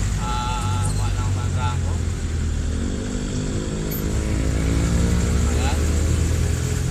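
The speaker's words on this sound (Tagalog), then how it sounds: "Meron konting traffic mga ka-idol." Steady, loud engine and road rumble fills the cabin of a vehicle moving through light traffic near Mandrago and Fisher Mall, with someone talking over it throughout.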